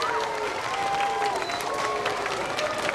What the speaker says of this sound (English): give another wonderful round of applause for the district's terrific music teachers